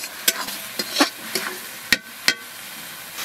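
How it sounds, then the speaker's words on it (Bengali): Chicken pieces go into spices frying in a pan for a Bengali chicken curry, with a soft sizzle under a series of sharp stirring scrapes and clinks, close and irregular. "মশলা ভালো করে কষে নিয়েছি মাংস দিয়ে দেব"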